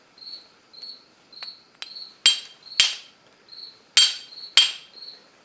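A steel striker, made from a scoured old rusty wood chisel, hits flint to throw sparks, giving a series of sharp, ringing metallic strikes at irregular intervals, close and clear against a quiet, faintly buzzing background.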